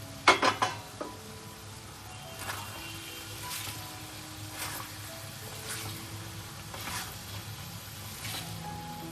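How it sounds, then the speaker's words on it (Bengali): Green chillies dropped into a hot pan, giving a quick clatter at the start and then a low, steady sizzle with occasional soft scrapes of utensil against the pan. "কিছুটা কাঁচা লঙ্কা দিয়ে দিলাম।"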